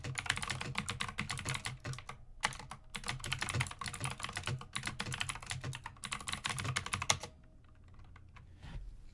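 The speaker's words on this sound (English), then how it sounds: "just typing in the chat" Rapid typing on a computer keyboard, close and clear bursts of key clicks with short pauses, stopping near the end and leaving quiet room tone.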